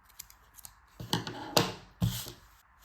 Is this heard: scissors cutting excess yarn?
yes